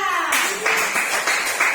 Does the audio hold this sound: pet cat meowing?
no